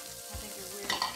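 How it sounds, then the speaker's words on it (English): Onions crisping in a hot pan make a continuous sizzle with a low hum underneath, rising to a brighter, louder crackle of stirring near the end. "I'm getting these onions nice and crispy"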